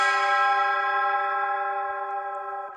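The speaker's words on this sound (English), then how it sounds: "I've got this church bell sound," A church bell sample inside a phonk remix rings out as one sustained, bright strike whose dense harmonic overtones slowly decay over nearly three seconds, loud and alone.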